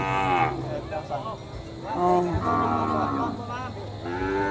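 A carabao water buffalo lowing at a busy livestock market, drawn-out deep moos repeated over and over, close and loud, with people talking in the background.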